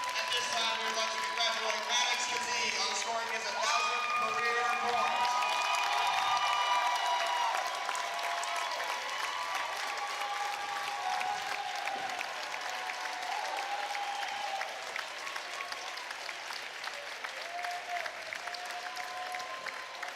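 A large indoor crowd at a high school basketball game between the Valley Indians and Chesapeake Panthers cheers and applauds loudly and continuously, with shouts and a buzzing mix of voices that eases slightly toward the end.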